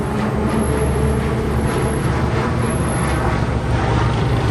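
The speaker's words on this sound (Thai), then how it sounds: "นี่ครับก็จะมีเครื่องบินบินผ่าน ทุกวันครับ" A large airplane passing overhead on its daily route near a tall bridge by a Thai market, a steady broadband roar that fills the whole stretch without rising or fading, loud and close with no talk over it.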